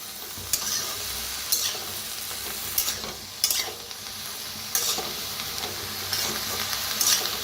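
Mixed vegetables and peas sizzle and roast in a kadhai over a wood-fired stove, with a steady fry hiss broken by repeated loud scraping strokes of a spoon stirring the pan.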